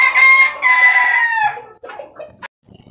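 A mixed-breed Dark-and-Perdiz rooster kept with Brahma Perdiz hens crows loudly and close by in one long, drawn-out call, followed by a few shorter clucking and squawking notes before fading.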